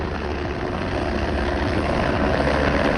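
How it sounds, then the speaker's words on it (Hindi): Helicopters flying near Kedarnath temple, a loud, close, steady rotor and engine drone filling the whole stretch. "हेलीकॉप्टर आ रहे हैं"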